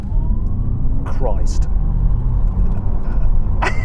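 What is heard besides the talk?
Audi RS e-tron GT electric car accelerating at full throttle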